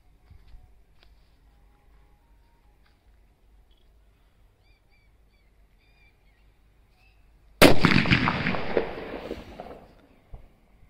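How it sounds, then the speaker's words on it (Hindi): A Diwali dholak firecracker explodes outdoors after near silence, one sudden loud bang with a long crackling, fizzing tail that fades over a few seconds, faint birdsong in the background. "अब लगा के देखते हैं आग और देखते हैं कैसा ब्लास्ट होता"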